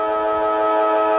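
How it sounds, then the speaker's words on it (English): A football ground siren sounds at the start of the final quarter of a country football elimination final, a steady, sustained tone held without break and heard clearly on its own. "siren time, we're underway."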